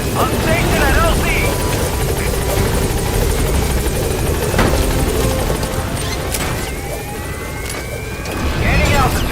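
A helicopter hovers at a landing zone in Metal Gear Solid V, its loud, steady rotor chop filling the scene, with radio voices speaking over it and a few distant booms.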